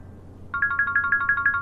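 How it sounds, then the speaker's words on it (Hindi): A phone ringtone starts after a moment of quiet, a bright electronic tone repeating in quick, even pulses, clear and fairly close. "रूना का फोन है।"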